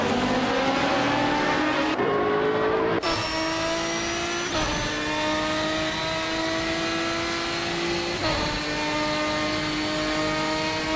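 A 2010 Maytech Ford GT1 race car in a racing video game drives steadily at high revs, its engine tone holding loud and sustained with a few gear-shift pitch jumps and no talk over it.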